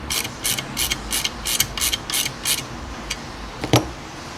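An Allen wrench tightens a bolt on a Turner 5 Spot bike frame's rear triangle, giving a series of crisp, evenly spaced ratcheting clicks close up, then a few slower, sparser clicks.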